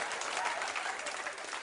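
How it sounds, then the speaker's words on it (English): Comedy show audience breaks into applause, a short burst of dense, even clapping from a crowd that stays steady and fairly full throughout. "Don't know what we're clapping for, but let's do it."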